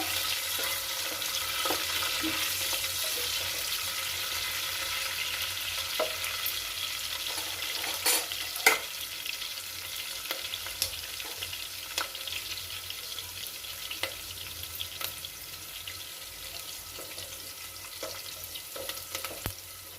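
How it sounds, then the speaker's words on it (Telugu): Half an onion and curry leaves frying in well-heated oil for a potato and eggplant masala curry, a constant crackling sizzle with scattered sharp pops and occasional stirring, heard close and without voices. "బాగా నూనె వేడెక్కింది. ఇప్పుడు కరివేపాకు వేసినాను. ఉల్లిగడ్డ వేస్తానండి, అర్ధ ఉల్లిగడ్డ."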